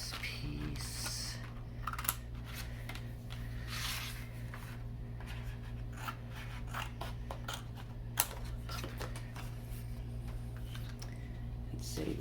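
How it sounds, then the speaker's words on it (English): Scissors cut a piece of paper while a stamped Christmas card is being made, with soft snipping and rustling that runs through a low steady hum, and a couple of brief louder clicks. "So I'm gonna cut this piece."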